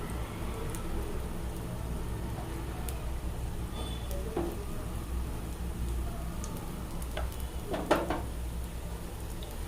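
Rava kuzhi paniyaram batter frying in oil in the cups of a paniyaram pan, a steady, quiet sizzle with a few faint clicks and taps of a utensil against the pan.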